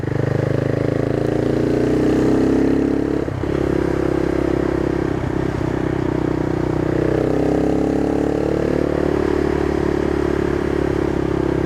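A CCM Flat Tracker motorcycle being ridden produces a steady, loud engine drone throughout, with a few brief clattering bumps and slight shifts in pitch as it holds speed on the road.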